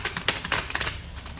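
A deck of tarot cards being shuffled by hand, giving a brisk run of papery riffles and flicks in quick bursts, close and fairly soft, with no voices.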